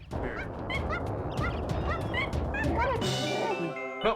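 Bird calls in Zelda: Breath of the Wild, a run of close, chirping and gobbling game bird cries repeated over a steady background hum, with a brighter sustained call near the end.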